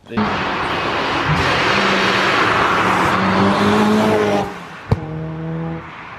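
The supercharged 450 bhp Honda S2000 track car revs hard and loud up close, its pitch climbing through gears before a sharp clunk and lower idle-like drone, with voices talking over it.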